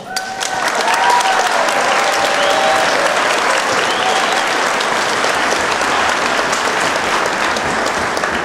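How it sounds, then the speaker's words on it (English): Loud, sustained cheering and applause from a graduation audience, dense clapping with whoops near the start, filling the whole stretch without pause. "Let's give ourselves a great big cheer."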